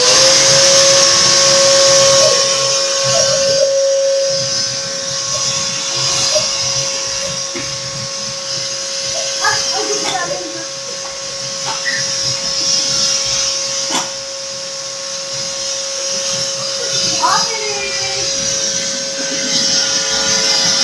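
A household vacuum cleaner runs steadily nearby with a constant motor whine and airy hiss, and faint clicks and knocks surface now and then over the drone.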